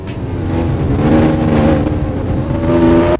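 Honda Integra Type R DC2 in Roblox Midnight Racing Tokyo, its engine droning and revving steadily for about three seconds, loud and close, with no talk over it.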